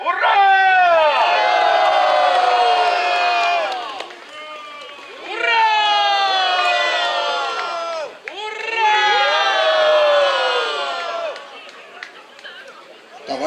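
A crowd at a caravan club anniversary gathering cheers in three long swelling waves of shouting voices, loud and close, with short quieter gaps between.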